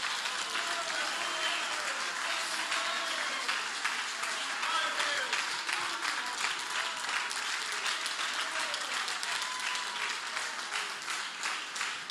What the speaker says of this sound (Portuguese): Se chegou a você, dá uma salva de palmas a ele.